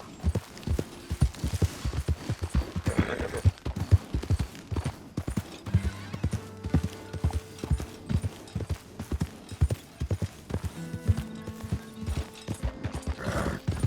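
Steady clip-clop of horse hooves at a trot in Red Dead Redemption 2, rhythmic and close, with a brief whinny and faint background music tones.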